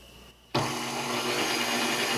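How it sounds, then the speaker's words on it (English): A stand mixer whisk attachment starts beating egg whites for a strawberry pavlova at medium speed, kicking in abruptly after a brief quiet moment and then whirring steadily and close. "we're going to beat these with the whisk attachment until it is frothy and foamy"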